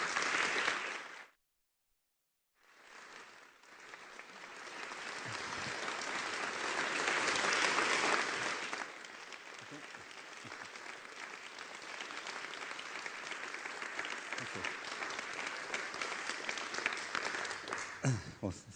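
Audience applause welcoming Sir Ken Robinson to the stage, a sustained wash of clapping from a packed room that swells, then holds steady for many seconds after a brief gap.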